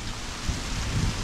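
Heavy rain from a tropical storm in Mexico pours down in a dense, loud, continuous rush, with deep rumbling undertones and no voices, over a brief moment.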